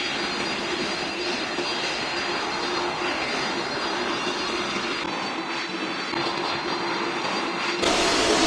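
Aircraft engines starting in the Roblox game PTFS, a constant whining jet-engine roar that holds steady and swells louder in the final second.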